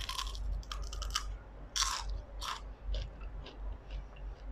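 Crunchy bites and chewing of crispy baked okra snack, close to the mic, several crisp crunches in an irregular rhythm over a steady low background hum.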